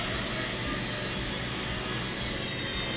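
A Blade 70 S RC helicopter hovers indoors, its small motor and rotor making a steady high-pitched whine that stays even and close throughout, with no voices.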